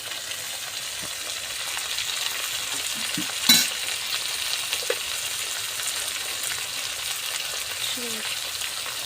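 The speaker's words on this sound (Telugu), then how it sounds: "మా మమ్మీ అయితే కలుపుతున్నారు. టమాటాలు అయితే వేసేస్తున్నాం మళ్ళీ అందులోనే." Tomatoes stirred into a brinjal and egg curry in a pan, giving a faint, steady sizzle with soft scraping strokes and one sharp clink partway through.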